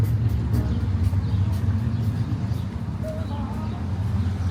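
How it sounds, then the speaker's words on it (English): Cars and larger vehicles rolling past on a town street, a continuous close traffic rumble with faint birdsong and a few quiet voices in the background. "Let some of these cars go."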